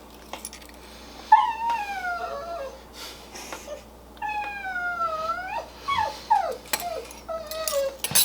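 An excited dog whimpers and whines in a series of high, wavering cries and squeals, fairly close by, with short pauses between bursts and no talking over it.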